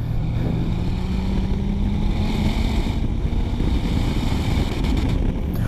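A 2016 Dodge Viper ACR drives a race track, its engine a steady, loud droning roar with a low rumbling tone that holds throughout, mixed with wind rush and no talking.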